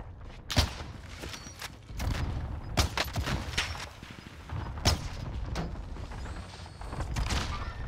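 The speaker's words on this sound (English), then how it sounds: "They're shooting at me." Gunfire in the Call of Duty Warzone video game, several sharp shots spread through the passage, some loud and near, with game mechanisms and a steady busy background in between.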